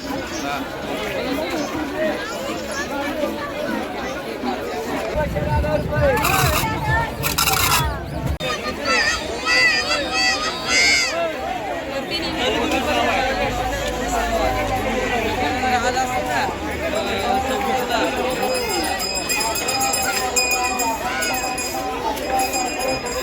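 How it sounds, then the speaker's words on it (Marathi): A dense crowd chatters continuously at the Mhasa Yatra village fair in Murbad, known for its bullock market, a steady babble of many voices with a nearer voice speaking over it and brief louder bursts of activity. "आम्ही बोललो गर्दी नाही पण बघ गर्दी बघ"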